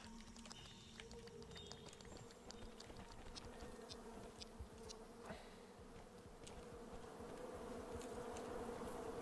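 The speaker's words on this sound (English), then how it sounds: "the way that the buzzing gets louder and louder the closer you get" Creatures in the Rain World video game buzz in a steady insect-like drone that swells gradually louder over several seconds, mixed with faint scattered clicks and no voice.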